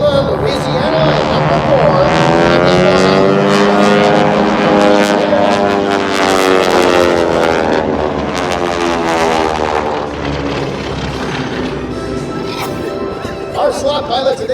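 A propeller aircraft of the AeroShell aerobatic team roars loudly overhead at the 2019 Abbotsford airshow, its engine drone sweeping in pitch as it passes, while an announcer talks over it.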